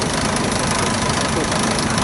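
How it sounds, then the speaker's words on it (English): A model traction engine at an agricultural autumn show runs with a dense, continuous chugging rumble, close and loud, steady throughout with outdoor crowd noise mixed in. "I think this is just another model traction engine"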